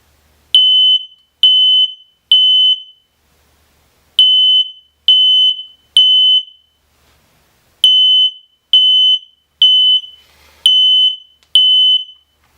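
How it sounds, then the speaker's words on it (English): A residential smoke detector sounding its alarm: loud, piercing electronic beeps in groups of three with short pauses between, very close and alone with no other sound. "once we have enough smoke, the smoke detector should go off. We'll hear some beeping."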